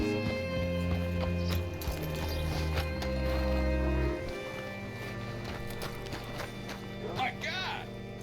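Hooves clip-clop at a steady walking pace in Red Dead Redemption 2 alongside game music and a voice, with a horse whinnying briefly near the end.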